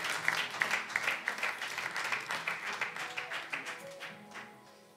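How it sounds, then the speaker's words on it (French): A church congregation at a seminar applauds. The rhythmic, fairly loud clapping is steady for about four seconds, then fades out. "On va applaudir le Seigneur."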